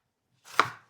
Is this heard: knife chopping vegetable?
yes